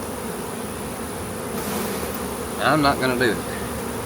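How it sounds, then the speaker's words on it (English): A dense swarm of honeybees being shaken off a hive frame gives a loud, continuous buzzing drone, and someone briefly speaks over it near the end. "I'm shaking these bees off"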